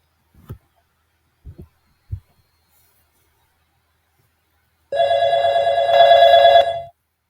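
A softphone web client placing an audio call to an IVR app gives a few soft low thumps, then a steady electronic ringback tone that sounds for about two seconds, clear and close, with no voices.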